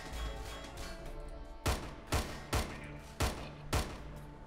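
Gunfire in the video game Hunt Down The Freeman: a run of sharp, evenly spaced shots rings out over a low background, five loud bursts in the later half.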